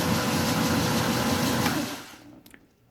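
A Frankford Arsenal wet tumbler loaded with stainless steel pins runs with a loud, steady mechanical whir and churn for about two seconds, then stops, leaving a few faint clicks.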